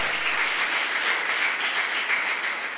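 A church congregation applauds in dense, steady clapping from many hands, sustained at an even level throughout.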